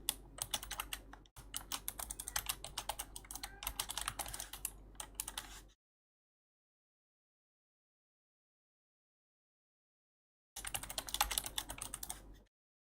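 Close, quiet typing on a computer keyboard: rapid bursts of key clicks for several seconds, a long stretch of silence, then another short burst of typing.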